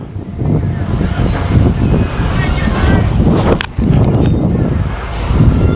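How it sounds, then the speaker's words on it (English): A headwind blows across an open disc golf field, rough gusty buffeting that roars loudly and steadily against the microphone. "We've got a headwind"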